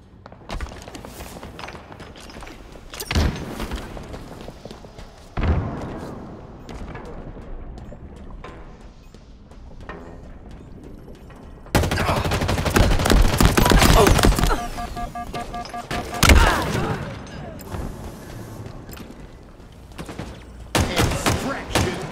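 Weapon fire in the Halo Infinite Aquarius extraction match: bursts of gunfire and heavy thuds, loud and near, with a sustained dense barrage in the middle, plus scattered in-game announcer callouts.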